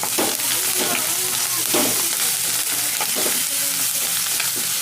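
Curry leaves crackling in hot oil while crab fries village style, a loud close sizzle with sharp pops and stirring scrapes.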